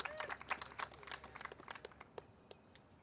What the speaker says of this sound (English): That merits applause.